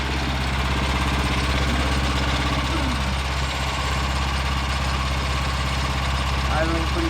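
A Vanguard 9HP engine on a small tractor idles steadily with a low, even rumble and faint knocking, unchanging throughout.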